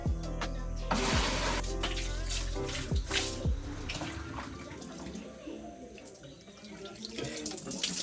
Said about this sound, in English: So I gotta fill it here with rainwater that's collected when it rains.